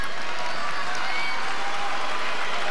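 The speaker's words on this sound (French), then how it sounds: "on l'a entendu aussi par la réaction de la foule" A tennis crowd at the 2016 WTA Finals applauds continuously, a dense, even roar of clapping from the stands that holds steady at full volume throughout.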